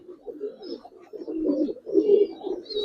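Giribaz pigeons coo close by in soft, low, throaty bursts, several overlapping calls rising and falling in short phrases with faint chirps above.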